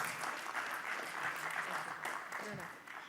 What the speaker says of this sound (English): Ladies and gentlemen, a big round of applause for Dinika Bhatia.